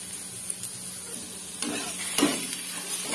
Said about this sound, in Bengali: এখানে আলুটা হালকা লাল লাল করে ভাজা হয়ে গেছে